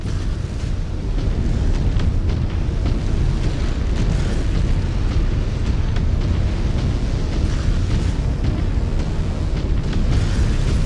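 Battle mechs firing weapons amid continuous explosions in MechWarrior 5: Clans, a dense, unbroken roar of blasts and rumbling booms throughout with no pauses.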